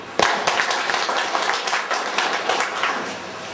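An audience applauds consultants at the close of a civil-population training workshop, with dense, steady clapping that starts sharply and carries on throughout at moderate loudness.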